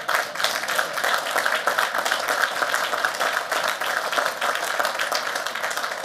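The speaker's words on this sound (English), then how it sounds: "You can clap for that." An audience at a presidential speech at the West Point military academy breaks into sustained applause: dense, even clapping from many hands, steady and fairly loud throughout.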